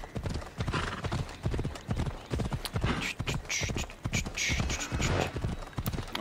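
Horse galloping in Assassin's Creed Odyssey, rapid rhythmic hoofbeats pounding close and steady across the whole stretch, with game ambience behind.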